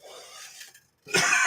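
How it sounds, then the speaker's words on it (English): A woman gives two short, rough coughs close by, the first softer and drawn out, then a brief gap before a louder, harsher burst. "I'm gonna cough my brains out."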